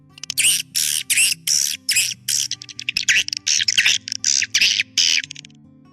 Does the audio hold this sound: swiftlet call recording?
yes